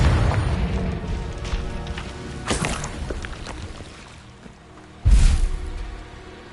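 Confringo blasting spell in Hogwarts Legacy, a fantasy video game: two booming explosive bursts, one mid-clip and a heavier one near the end, over a busy rumbling combat backdrop.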